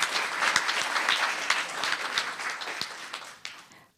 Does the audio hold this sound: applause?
yes